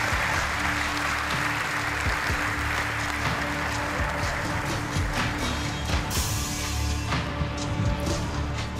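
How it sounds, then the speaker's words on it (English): Crowd applause at the UEFA Champions League 2018/19 group stage draw ceremony, sustained clapping filling the hall for nearly nine seconds, with faint steady tones underneath and no speech. "Give them a warm round of applause."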